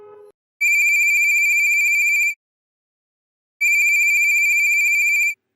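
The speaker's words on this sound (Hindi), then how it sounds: "तभी नीलम के फोन पर एक कॉल आती है।" An incoming call sets a phone ringing: two long, bright electronic ring bursts separated by a pause of about a second, clear and alone with no talk.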